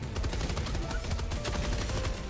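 Rapid gunfire crackles in Helldivers 2, a dense run of close, loud shots in quick bursts with barely a pause between them.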